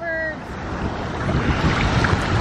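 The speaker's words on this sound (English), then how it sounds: "The waves are just so calm." Calm ocean waves at Fort Lauderdale Beach wash and hiss in a continuous broad rush, close and fairly loud, with wind buffeting the microphone and a brief tonal sound at the very start.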